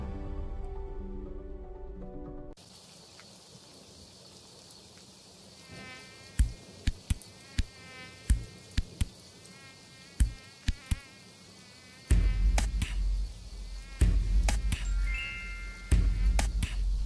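Insects buzzing in an insecticide advert: a high whining drone with sharp slapping and clapping hits scattered over it, then heavier thuds near the end, set against a musical backing at the start.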